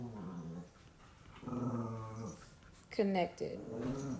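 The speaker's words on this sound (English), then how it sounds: "You all have to excuse my dogs. They are playing." Pet dogs growl and whimper at close range while playing indoors, a throaty, rumbling tussle that rises into sharper yelping near the end, with a person talking over it.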